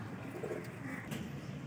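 Teddy pigeons coo softly in low, murmuring calls against a steady background hum, heard close and quiet, with no talking.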